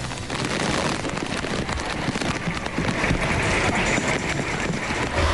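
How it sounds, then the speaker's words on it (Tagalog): Heavy, nonstop overnight rain pours down in Baguio City during flooding, a dense, steady hiss of drops that stays loud throughout with no voices. "Ito'y bunsod ng walang tigil na pag-ulan sa magdamag dito sa Baguio City."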